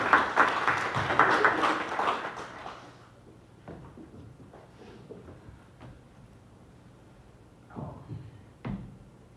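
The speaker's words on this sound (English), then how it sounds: "Let's give our Lord our best clap of praise." A burst of clapping from a church congregation during a worship service for a few seconds, then it fades into quiet room noise with a couple of knocks.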